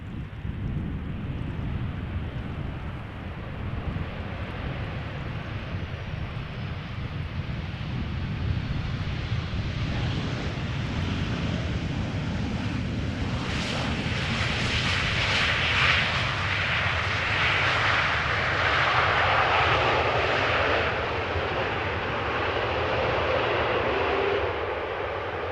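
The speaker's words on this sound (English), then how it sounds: "Another Transavia 737 landing coming in from Barcelona." A Transavia Boeing 737 arriving from Barcelona lands at Amsterdam Schiphol, its engine roar swelling steadily and peaking as it passes close by, mixed with wind rumble across the microphone, with no talking.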